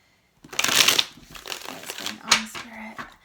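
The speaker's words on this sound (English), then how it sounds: "I want to just shuffle a little bit more on camera." Tarot cards being shuffled by hand, a burst of dense riffling and crinkling up close followed by softer intermittent shuffles, with a faint low hum underneath.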